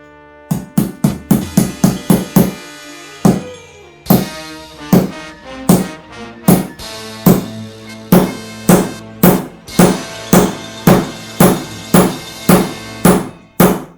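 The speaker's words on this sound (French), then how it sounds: "Je vais chercher le burin et le marteau." Sharp metallic strikes repeat in a steady rhythm, a hammer driving a chisel into hard material, close and loud with brief pauses between bursts.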